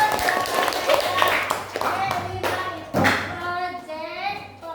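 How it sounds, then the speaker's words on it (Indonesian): Classroom clapping from students during a school lesson, uneven hand claps mixed with children's voices and a teacher talking over them, moderately loud and close. "Ya, tepuk tangan."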